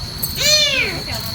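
A cat meows once, a clear drawn-out, rising-then-falling call at close range over a steady background hum.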